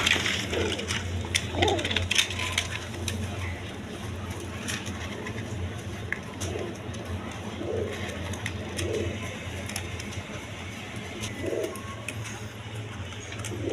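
Pigeons at a pigeon farm coo in low, soft bursts, several scattered calls over a constant background hum, with no talking.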